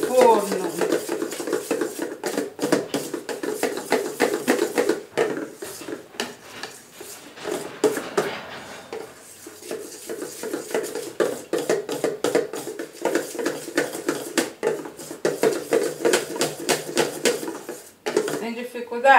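Banana cake batter being mixed in a bowl, heard as a steady, continuous rhythmic stirring and scraping against the bowl with a spoon, while a voice talks over it.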